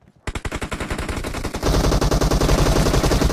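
Rapid automatic gunfire in PUBG Mobile, with a short opening burst followed by a dense, loud stream of shots fired in quick succession.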